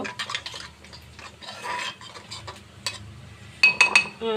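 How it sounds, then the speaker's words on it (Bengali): A utensil scrapes and clinks against a pan while turmeric, chili and cumin powders are stirred together, giving close irregular metallic taps and scrapes, a few sharp clinks near the end. "হলুদের গুঁড়া মরিচের গুঁড়া জিরের গুঁড়া মশলাগুলা আমি ভালো করে মিশিয়ে নিব"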